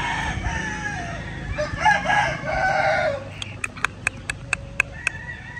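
Asil chickens, hens and a rooster, on a farm: clucking and calls fill the first half, then a run of about nine sharp, evenly spaced clicking or pecking pulses rings out near and clear, with faint talk beneath.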